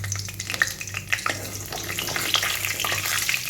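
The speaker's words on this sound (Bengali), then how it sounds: "এই তেলটার মধ্যে আমি একটা তেজপাতা, সামান্য একটু সাদা জিরা, একটা শুকনো লঙ্কা ফোড়ন দিয়ে দেবো" A bay leaf, white cumin seeds and a dried red chilli tempering in hot oil in a kadai crackle and sizzle close by, with small irregular pops and stirring scrapes over a low hum and no voices.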